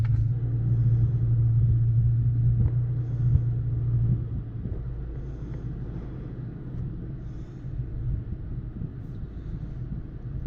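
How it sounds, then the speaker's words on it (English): A Toyota Tacoma TRD Pro pickup truck idles close by with a steady low engine rumble and a strong hum for about ten seconds, softening a little after the first few seconds, with no talk. "I'm going to crank the truck up."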